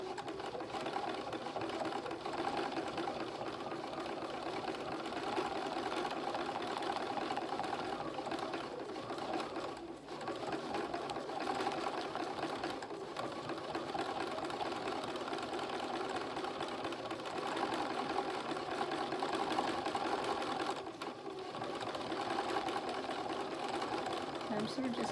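Sewing machine stitching a fabric collage, a continuous rapid mechanical whirr with a fast stitch rhythm, close and steady for the full stretch with only brief pauses, under soft background talk.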